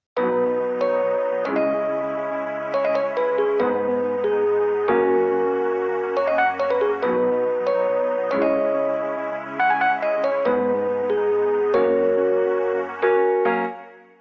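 Several layered synth melodies from an FL Studio beat play together in a dense, bright, chiming loop of repeating phrases with steady rhythmic note changes, loud and without any voice.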